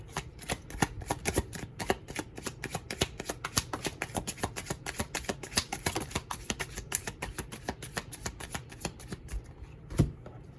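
Continuous rapid card shuffling, a dense run of crisp taps and flicks at a steady rhythm, close up with no talking.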